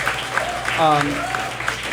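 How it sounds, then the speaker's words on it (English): Applause during a live orthodontic podcast recording in Miami, soft crowd clapping running under a speaking voice for about two seconds. "thank you for the applause"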